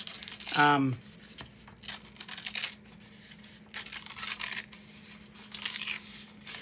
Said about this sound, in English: Let's just tear it and let's see what happens.